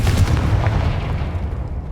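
A Confringo fire spell explodes in Hogwarts Legacy, a loud, deep booming blast with a rumbling low-end tail that rolls on for about two seconds, no voices over it.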